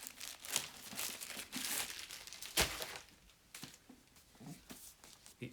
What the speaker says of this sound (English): Let me unwrap it so we can see what this is